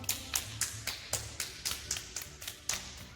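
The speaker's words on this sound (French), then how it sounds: "on applaudit" Steady hand clapping during a home exercise routine, about a dozen evenly spaced claps in a brisk rhythm, fairly faint and close.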